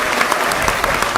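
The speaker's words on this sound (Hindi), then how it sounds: "ताली बजाओ मिल के सारे जोर जोर से।" Audience applause at a Hindi comedy poetry gathering, a steady wash of many hands clapping close and loud for the whole short stretch, with no talk over it.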